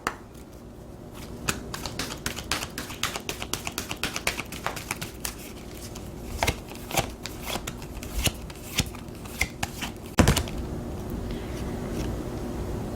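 Oracle cards for a tarot reading are shuffled by hand in a long run of quick, papery riffles and taps, close and crisp. A sharper slap comes near the end, followed by softer handling.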